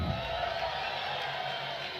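Crowd cheering and whooping at a Formula Drift night event in Long Beach, a steady, dense wall of distant voices holding at an even level throughout.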